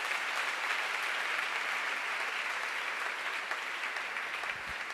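A church congregation claps together in sustained, even applause, a dense wash of hand claps heard at moderate distance with no break.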